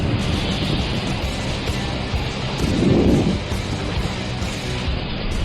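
Hurricane-force storm with strong winds, a steady roaring wind noise throughout with a brief louder low gust or rumble swelling near the middle, no voices.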